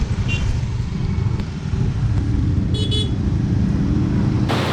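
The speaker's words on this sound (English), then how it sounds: "The most classic thing you'll see here in Bali is traffic." Busy street traffic in Bali, with a constant loud rumble of cars and motorbikes passing close by and several short car horn toots cutting through near the middle and end.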